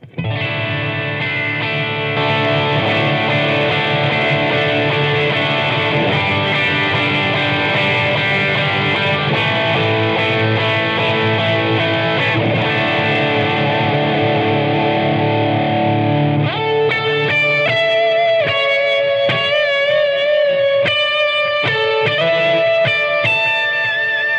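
Electric guitar through an emulated Fender amp, warm tone, thick strummed chords ringing for a long stretch, then single melodic notes, no voices.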